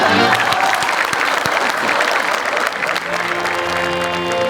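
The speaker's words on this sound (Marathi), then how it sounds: "टाळ्या" An audience at a live comedy show with an orchestra breaks into loud, sustained applause and some crowd noise, while musical tones ring beneath and a voice briefly speaks over it.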